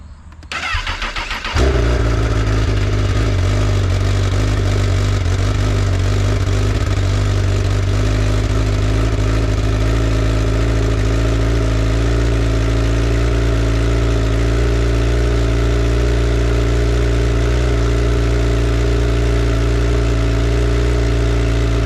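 A Honda CBR1000 motorcycle, filmed before an exhaust upgrade, cranks briefly and fires on the first try, then settles into a loud, steady idle close by with a constant low rumble and no voices.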